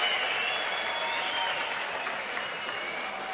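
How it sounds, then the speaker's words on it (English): Darts crowd at a PDC UK Open quarter-final applauding, a steady wash of distant clapping and crowd noise that holds evenly throughout without distinct individual claps. "Round of applause from everybody."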